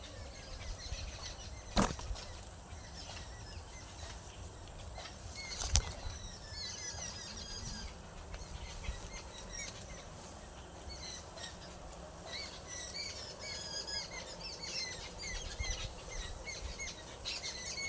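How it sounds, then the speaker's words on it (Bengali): Scattered morning bird chirps and calls come from a distance in trees over a faint, steady outdoor background. "আবার ওই দিকটাতে এখন পাখি ডাকছে"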